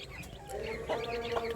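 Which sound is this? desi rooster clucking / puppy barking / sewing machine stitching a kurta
desi rooster clucking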